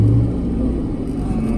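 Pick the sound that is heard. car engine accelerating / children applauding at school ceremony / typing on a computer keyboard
car engine accelerating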